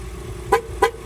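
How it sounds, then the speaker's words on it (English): A car horn gives two short toots about a third of a second apart, loud and close, over a low background rumble. "Watch, it's gonna honk again."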